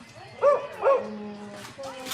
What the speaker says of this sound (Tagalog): daming aso, no?